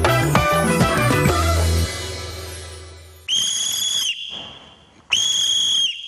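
Two long, loud, shrill whistle blasts from a camp sheriff, each lasting about a second, separated by a short pause, with music fading out just before the first blast.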